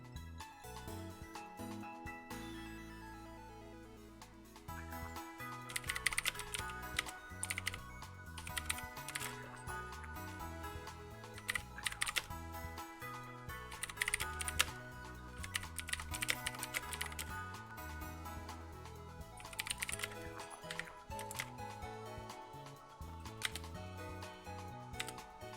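Computer keyboard typing during a game livestream, rapid irregular keystrokes clattering close by for about twenty seconds after a quieter start, with no talking.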